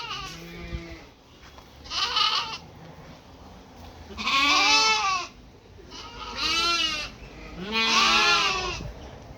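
Dorper sheep in a pen bleat loudly and nearby, about five distinct calls spaced a couple of seconds apart with quiet pauses between them.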